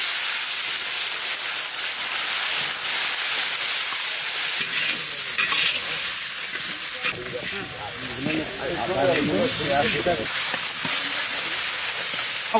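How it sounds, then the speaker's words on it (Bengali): Chopped onion dropped into hot oil already seasoned with whole bay leaves and cumin, after eggs were fried, hissing and sizzling loudly while a spatula stirs; someone speaks over the frying. "এখন দেবো কুচনো পেঁয়াজ"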